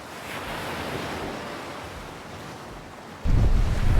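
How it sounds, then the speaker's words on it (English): Strong wind on a fishing pier roars and buffets the microphone continuously, growing suddenly louder and rougher near the end. "it's still mega windy out here"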